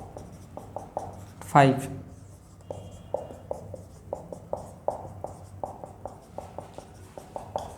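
Numbers are written quickly on paper during a class 10 maths lesson, a series of short, distinct pen strokes in an irregular rhythm, close by, while a person talks over them.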